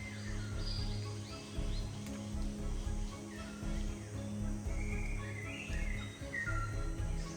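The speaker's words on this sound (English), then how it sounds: "The tua, New Zealand's melodic songbird." A tui songbird sings in New Zealand bush, a few bright, high, warbling phrases over a low steady hum, fairly faint and with no talking.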